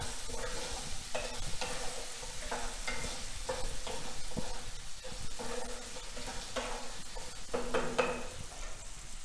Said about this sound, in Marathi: टोमॅटो छान परतून घ्यायचं आहे.